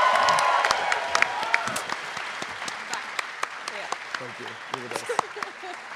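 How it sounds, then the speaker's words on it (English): A live comedy audience at the Melbourne International Comedy Festival gives comedians a loud burst of applause that fades into scattered claps, with some voices over it. "Can we say a big round of applause?"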